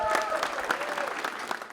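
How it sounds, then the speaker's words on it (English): Audience applause in a room at an arts and diaspora talk, steady dense clapping filling the whole stretch, fairly loud, with faint voices and cheering mixed in. "Can I get a round of applause for the vibe?"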